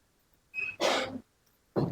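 A woman coughs in two short bursts, the first harsher and longer, the second a brief single cough, close to the listener with quiet between.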